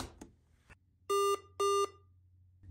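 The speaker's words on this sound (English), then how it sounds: "You'll hear two beeps." Two short, loud electronic beeps from a Chromebook during a factory reset, in quick succession, clear and tonal, after some faint clicks and handling noise.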